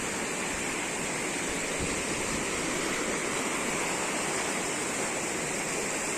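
A vehicle driving through deep water on a concrete road, producing a constant loud rushing, splashing wash of water that fills the scene with no break and no talking.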